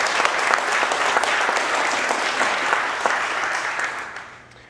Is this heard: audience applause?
yes